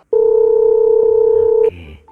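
A telephone line gives a loud, steady dial tone for about one and a half seconds, then cuts to a brief burst of softer tones while a call is placed.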